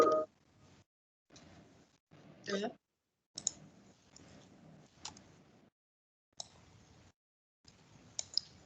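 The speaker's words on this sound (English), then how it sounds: "I'm just typing mine in" Computer keyboard typing during an online town council meeting, heard as short bursts of clicking separated by silent gaps, fairly quiet and close.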